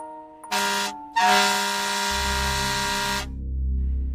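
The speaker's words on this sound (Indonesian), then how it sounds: "terdengar klakson panjang" A loud truck air horn blasts twice, the second blast long and sustained, over the low rumble of an engine.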